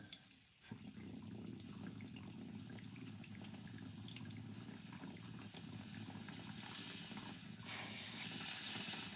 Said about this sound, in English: How come I'm hearing water